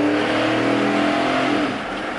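A Chevrolet Suburban's engine revs steadily from inside the cabin, a loud continuous mid-pitched drone with a slight rise and fall that eases off near the end, with no talking.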